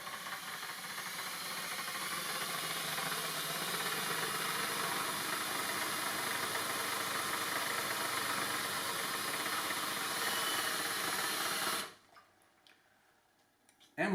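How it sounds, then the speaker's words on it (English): A handheld electric drill whirs steadily while mixing bubble solution of water and Mike's Gooey Mix, a close, continuous whine with a faint hiss that runs for about twelve seconds before stopping abruptly. "Give it a good mix with my handy drill."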